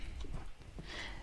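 Horse hooves clip-clop as a visual novel sound effect, faint and low with a few soft irregular knocks under a muffled background rumble.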